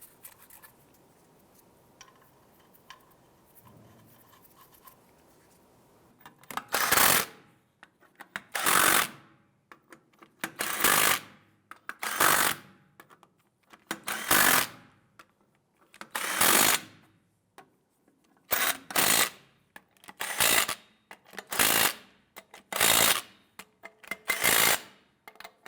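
Lug nuts on the rear wheel of a 2000-2006 Toyota Tundra being threaded on and snugged down, a long series of sharp ratcheting bursts repeating at a steady pace after a quiet start, close and loud.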